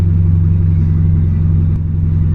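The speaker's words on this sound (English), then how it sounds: "It's idling a little low right now too." A Honda Civic fitted with a turbocharged D16 engine idles low and rough, a deep, steady rumble heard up close.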